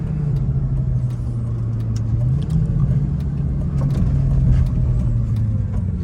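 Engine of a Lamborghini Gallardo as it pulls over, heard from inside the cabin as a steady loud low drone with a slowly shifting pitch, a few light clicks and rattles on top.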